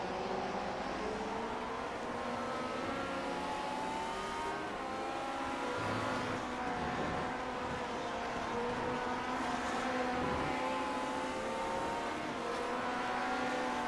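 Vintage Lotus 49 Formula 1 engine in an iRacing simulation at WeatherTech Raceway Laguna Seca, a steady high-pitched harmonic drone with gear changes shifting the pitch, heard alone and continuous throughout.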